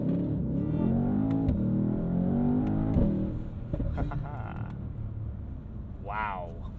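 A 605 hp 2020 Mercedes-Benz S63 AMG on snow tires launches hard in a 0 to 60 run. The engine roar climbs steadily for about three seconds, then eases after a shift, with a brief whistling sound near the end.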